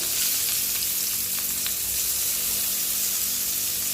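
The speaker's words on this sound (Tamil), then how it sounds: "வெங்காயம் போட்டு நல்லா வதக்கிக்கலாம். வெங்காயம் வதங்கட்டும்." Onions sauté in a pan for pulicha keerai thokku, giving a loud, continuous close sizzle with occasional stirring scrapes and no speech.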